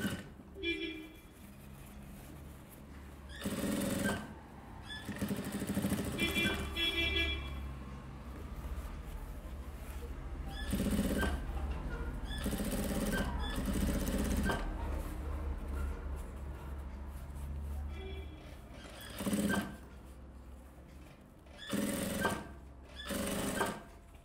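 A sewing machine edge-stitches a silk skirt for a one-year-old baby in repeated whirring bursts several seconds long, separated by short pauses. It is close and steady, and a voice speaks softly in places.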